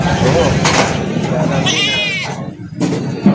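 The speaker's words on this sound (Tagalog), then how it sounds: "Bagong dating na kambing. Binababa na nila bossing." Goats bleat nearby at a goat market in Padre Garcia, Batangas, a wavering cry standing out amid people talking and general farmyard bustle as newly arrived goats are unloaded.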